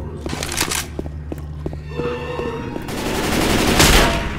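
Rapid machine gun fire rattles in Left 4 Dead 2 survival mode, a steady run of sharp shots that grows into a louder, denser burst of gunfire toward the end, with other game sounds mixed in.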